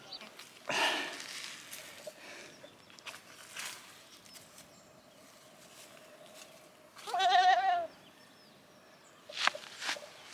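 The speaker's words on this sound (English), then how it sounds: "it will be this quiet this soon, with only goat noise" A goat near the India–Bangladesh border gives a short, wavering bleat, clearly audible over quiet outdoor ambience with scattered footsteps and soft rustling.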